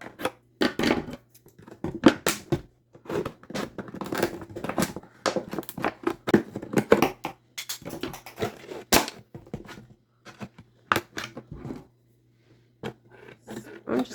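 Scissors snipping and crunching through a plastic water bottle to remove its neck, a series of sharp, uneven cuts and crinkles close up, with short pauses between bursts.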